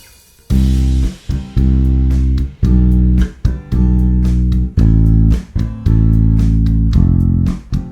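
Bass guitar plays a stepwise line over a backing track, passing through G over B and ending on F; loud low notes plucked in steady groups with brief breaks between phrases, no voice.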